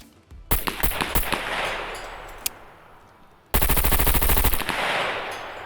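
HK MP5 firing 9mm in the video game SCUM: a rapid automatic burst, a lone sharp shot, then a second dense burst, loud and close with no talking.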